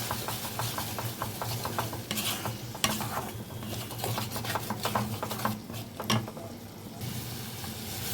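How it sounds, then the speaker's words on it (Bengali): A spice paste with a splash of water is stir-fried for a katla fish curry. A continuous close sizzle runs under busy rattling spatula scrapes, easing slightly near the end, with no talk. "এখন আমি এর মধ্যে সামান্য একটু জল দিয়ে এই মশলাটাকে খুব ভালো করে কষিয়ে নেব"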